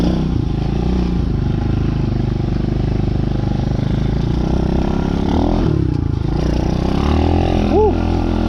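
Small motorcycle engine droning steadily throughout while riding, a continuous close hum with slight shifts in pitch, with a brief rising tone near the end.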